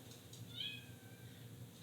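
One of two small kittens lets out a single thin, faint meow over a quiet background hum, with no talking.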